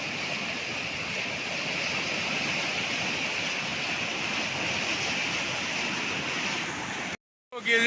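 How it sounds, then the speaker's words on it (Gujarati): A waterfall's heavy falling water roars continuously as a dense, steady wash of noise, then cuts off abruptly near the end. "જોઈ લ્યો પાણી કેટલું પડે ભયંકર"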